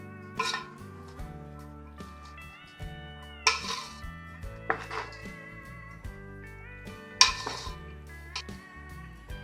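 Spaghetti chow mein being mixed in a pan: scattered clinks and scrapes of a utensil against the pan recur irregularly at close range over a quiet background, with no speech.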